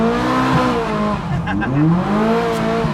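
A turbocharged Ferrari engine at a Ferrari charity gathering revs hard and close, its loud rising and falling tones sweeping up and down for about three seconds with no talking.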